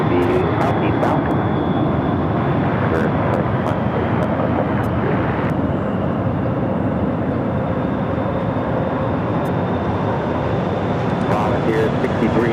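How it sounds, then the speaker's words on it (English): Contour Aviation ERJ 135 regional jet departing Phoenix for Show Low, Arizona, giving a sustained, fairly loud engine roar with a thin steady whine above it and a few brief clicks on top. "That was Contour Aviation Flight 6388 heading to Show Low, Arizona in the ERJ 135"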